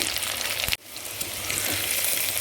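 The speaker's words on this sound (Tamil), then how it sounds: "பாருங்கள் பூண்டு நல்லா வதங்கிருச்சு வதங்கிருச்சு" Garlic sautés in a pan for a pepper curry, giving a dense, close frying hiss that drops out briefly for a moment before returning, steady and unaccompanied by talk.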